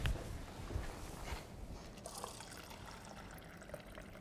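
Water trickles and splashes into a glass during a lecture, with a faint, close pour that starts slightly stronger and then thins to a light dribble.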